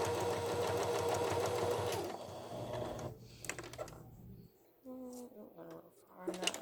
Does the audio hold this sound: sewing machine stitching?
yes